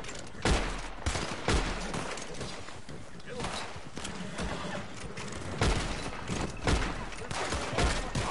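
Video game gunfire crackles in bursts of rapid fusillade shots, with a few heavier booms spread across the clip, loud and near, while a player talks over the action.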